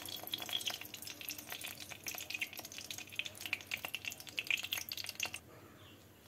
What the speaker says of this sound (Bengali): ফুলকপিগুলো ভেজে তুলে নেওয়ার পর যে তেলটা ছিল সেই তেলের মধ্যে আমি দিয়ে দেবো পরিমাণ মতো তেল